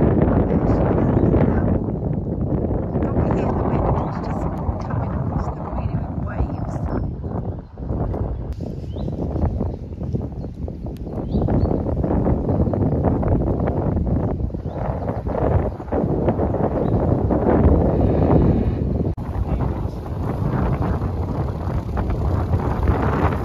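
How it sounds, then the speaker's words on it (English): Strong wind roars steadily across the microphone by a narrowboat, a dense rumbling buffet that barely lets up for the whole stretch. "And it's really windy"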